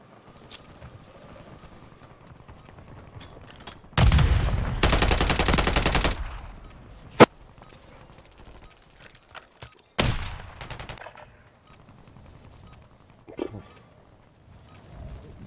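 Video game gunfire: two loud, sustained bursts of rapid automatic fire, each about two seconds long, with scattered single shots and thuds between them against a quiet background.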